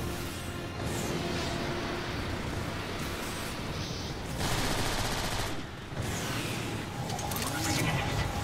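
Weapon fire rattles through a Transformers War for Cybertron battle at a station, a continuous barrage of loud shots with brief lulls over a dense game soundscape, no voices.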